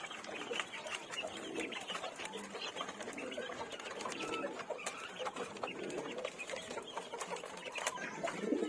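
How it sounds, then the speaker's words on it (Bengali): Young chickens from a broody hen are fed on a farm, giving soft, busy clucks and chirps over a constant patter of pecking and scratching. The sound is close and fairly faint. "এখানে আমার কিছু কোচিং মুরগির বাচ্চা আছে,"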